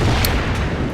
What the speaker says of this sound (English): The Nebel, it was some Nebel fires.